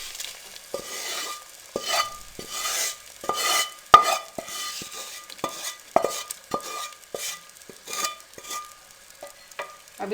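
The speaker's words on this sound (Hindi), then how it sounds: "अब इसको हम बघार लगाएंगे" Browned onions poured in as a tempering over chicken haleem, then stirred: repeated ladle scrapes and knocks against the pot with a light sizzle, close and without speech.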